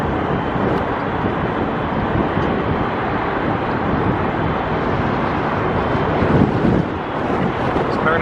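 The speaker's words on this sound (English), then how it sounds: "It's starting to get a little breezy out here." Steady wind buffets the microphone outdoors at a stadium construction site, a continuous loud rumbling roar with no breaks that slightly swells near the end, and faint voices are barely discernible underneath.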